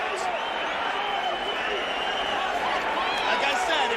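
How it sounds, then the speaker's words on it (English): A large UFC arena crowd roaring and cheering after a knockout, a dense, sustained wash of voices and applause with commentators talking over it. "Listen to the crowd react."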